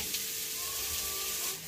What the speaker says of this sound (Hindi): देखो हल्का से फोरन जल गया, बहुत ज्यादा नहीं सौंफ को जलाना है।